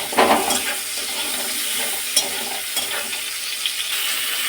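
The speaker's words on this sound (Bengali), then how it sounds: "কেটে রাখা পেঁয়াজটাকে আমি তেলের মধ্যে দিয়ে দিয়েছি। পেঁয়াজটাকে লাল করে একটু ভেজে নেব।" Chopped onions frying in hot oil, a loud, steady close sizzle with intermittent spatula scrapes and small clicks as they are stirred, no voices.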